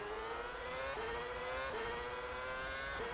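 Red Bull Renault Formula 1 car in rFactor 2 screaming at high revs, a sustained whining engine tone that climbs steadily and drops sharply at each upshift, three shifts in quick succession, loud and alone.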